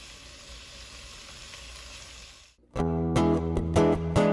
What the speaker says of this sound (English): cook the bacon until it renders all its fat and it's crispy